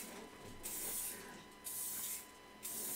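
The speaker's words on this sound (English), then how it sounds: "So you spray outside and then move and stop also outside the piece." Spray paint misted onto a tumbler in repeated bursts, several loud hissing passes starting and stopping outside the piece, with quieter gaps between them.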